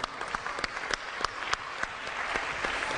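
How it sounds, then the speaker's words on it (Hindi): A studio audience on a Pakistani TV talk show applauds, producing dense, sustained clapping with sharp individual claps standing out, moderately loud and without speech. "बहुत सारी तालियां"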